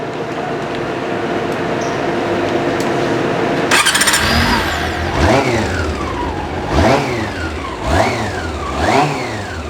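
A Honda CB400 motorcycle with its stock exhaust fires up with a sharp crank, settles into a steady idle, then gets several short rising-and-falling revs, loud and close with no talking.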